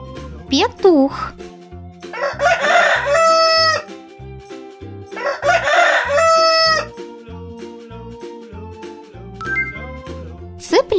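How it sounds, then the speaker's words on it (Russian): A cartoon rooster crows twice, loud and close, over a cheerful children's backing track with chimes and a short whoop at the start. "Петух."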